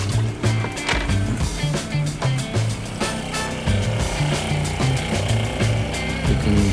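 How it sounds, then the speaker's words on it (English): A steady mechanical hum with a stuttering, pulsing low drone runs continuously and fairly loud, like a small pump motor working: the water pump of a Land Rover Defender overlander's shower system. "you can hear the pump running and then stop,"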